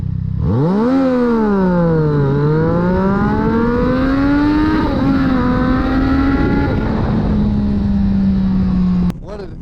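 A 2020 Triumph Street Triple RS motorcycle pulling away from a takeoff, its engine note rising sharply through several rapid climbing revs and gear changes before settling into a steady loud drone, heard close and alone.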